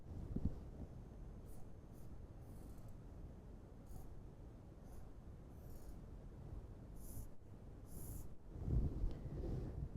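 A pen or marker scratches across a board while a gear figure is drawn, with intermittent short strokes spread over several seconds and steady low background rumble.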